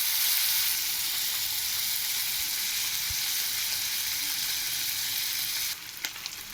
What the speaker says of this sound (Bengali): লাল লাল ভাজা হয়ে যাক।